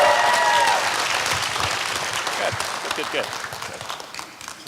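An audience at an educators' hall of fame induction dinner applauds and cheers for Tony, loud sustained clapping with a few whoops that gradually fades, while someone speaks briefly over it.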